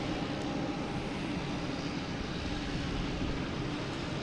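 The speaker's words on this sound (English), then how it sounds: "Next coming is American Airlines. A321 flight" American Airlines A321, flight 1257 from Philadelphia, at Boston Logan Airport: a steady broadband jet engine roar holds at an even level, fairly distant and continuous, with no talk.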